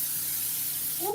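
A brief hiss of cooking spray being sprayed onto a baking tray, steady and close throughout, with a faint rising tone at the very end.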